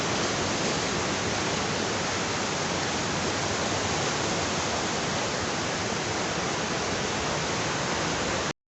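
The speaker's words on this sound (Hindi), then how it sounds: "यहाँ से पानी जा रहा है बह के।" Steady, loud rushing water roars without a break, a dense hiss like a fast river flowing close by.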